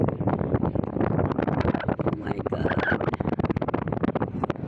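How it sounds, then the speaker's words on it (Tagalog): Strong gusty seaside wind at the far end of the Lohas Park waterfront in Hong Kong roars and buffets the microphone continuously, with a brief spoken exclamation partway through. "Grabe yung hangin dito talaga sa pinakadulo."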